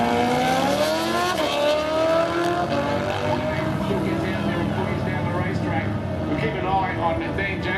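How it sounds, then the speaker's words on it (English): A Suzuki Hayabusa motorcycle launches and accelerates down a quarter-mile drag strip, a loud rising engine whine with gear-change dips, under an announcer's voice. "he's out there on a Suzuki Hayabusa"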